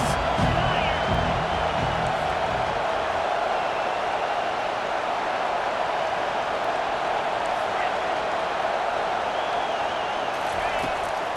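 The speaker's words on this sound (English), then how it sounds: "this crowd is tearing the lid off this place" A stadium crowd roars in the College Football 25 video game on third down, a dense, continuous wall of cheering that stays loud and steady throughout, with a commentator's voice running over it.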